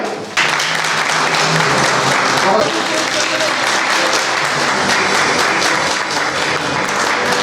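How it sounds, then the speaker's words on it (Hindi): An audience at an industrial convention panel welcomes a guest with loud, continuous applause. The dense clapping fills the hall for several seconds, and a voice carries faintly beneath it. "मैं जोरदार ताली से स्वागत करूँगा"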